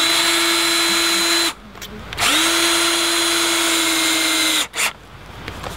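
A power drill drives 3-inch screws into a pre-drilled board while a mailbox post is assembled: two loud, steady whirring runs, each about two seconds long, split by a short pause and then stopping abruptly.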